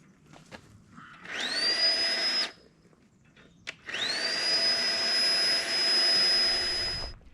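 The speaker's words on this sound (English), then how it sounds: "I'm going to let off this winch." Warn Pullzall electric winch running on a rebuilt NiMH battery pack, two close, loud bursts of high whining motor, one short and one longer, each rising in pitch as it spins up.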